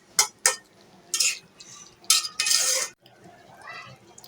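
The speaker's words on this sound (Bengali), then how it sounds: "ভালো করে নেড়ে চেড়ে মিশিয়ে নেব" A spoon scrapes and clinks against a cooking pot while taro stolons are stirred and mixed with dried fish, several sharp scraping strokes followed by a longer rattling stir and quieter shuffling.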